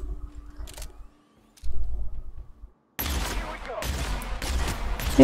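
Gunfire in The Outer Worlds video game: a few isolated sharp shots, then a dense burst of rapid fire with clattering action, with a voice talking faintly in the background.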